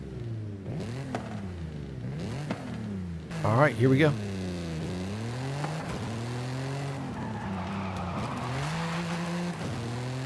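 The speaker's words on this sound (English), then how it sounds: "You can tell it's modified, maybe turbocharged, but you still get those V6 vibes." A modified TRD V6 car in Forza Horizon 5 revs repeatedly, its engine note climbing and falling in several sweeps with one sharper high burst midway, loud and close, as a voice speaks briefly at the start.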